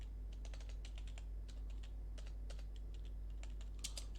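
Computer keyboard typing in quick irregular clusters of crisp clicks with brief pauses, close and moderately loud over a steady low hum, with no talking.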